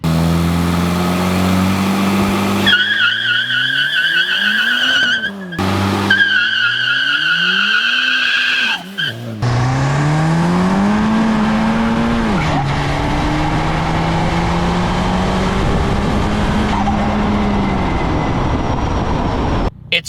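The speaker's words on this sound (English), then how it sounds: "so it's going to spin the tires" Turbocharged front-wheel-drive Chevy Cruze spinning its tires, loud engine revving up and down in repeated pulls with squealing tire screech, close and continuous, ending in a long sustained wheelspin.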